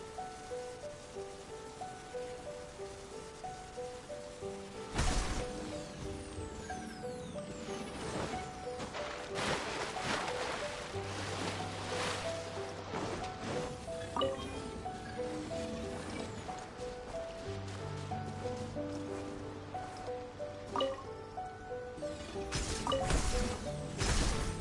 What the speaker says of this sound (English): Taking a stroll in the middle of a downpour certainly rouses the spirit.